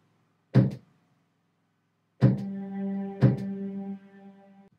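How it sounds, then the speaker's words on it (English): Kick drums in an Afrobeat-style song production: one punchy, low thump, then a pause, then two more hits about a second apart with a sustained tonal ring after them. "Like, these be the kicks."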